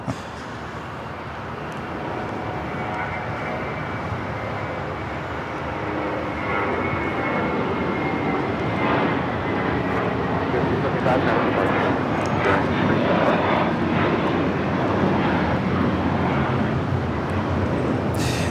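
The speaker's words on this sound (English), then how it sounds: "This is Spirit Airlines 375 taking off to Houston Intercontinental on an A321" An Airbus A321 operated by Spirit Airlines takes off from LAX, its engine roar building steadily and holding loud and broad throughout, with voices talking nearby.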